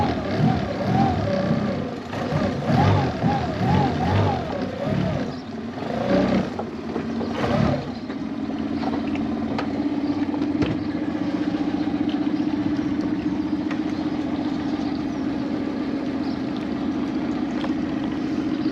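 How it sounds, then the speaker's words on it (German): A 20 PS Suzuki outboard motor runs on a YAM 310 inflatable boat, a loud steady mid-pitched drone that shifts from a wavering, revving start to an even hum once under way. "Motor läuft."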